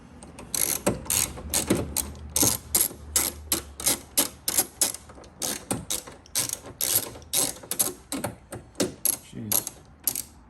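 A ratchet wrench tightens the top 10 mm nut on a new BMW door actuator, a long run of sharp, close clicking bursts in an uneven rhythm, each burst a quick series of pawl ticks, with no talk.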